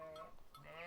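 Sheep bleating in a Swedish or Norwegian countryside along a trail ridden on a CRF300 motorbike: two close, wavering bleats, one short and one longer, with no talk.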